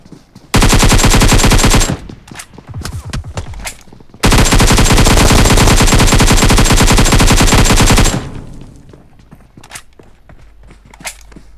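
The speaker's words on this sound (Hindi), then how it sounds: "कोई बंदा मिस फायरिंग कर रहा था।" Long, loud bursts of automatic M416 rifle fire in PUBG Mobile, two sustained volleys close by with a short gap of scattered shots and footsteps between them.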